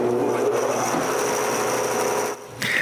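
A homemade wooden bandsaw runs steadily at close range with a constant motor drone and blade whir, then the pitch dips briefly near the end before the hum resumes.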